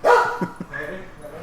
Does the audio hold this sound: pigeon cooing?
no